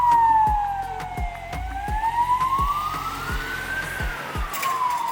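A wailing ambulance siren rises and falls in pitch over steady rhythmic engine or traffic thumps in Northern Cyprus, loud and fairly close, like an ambulance passing.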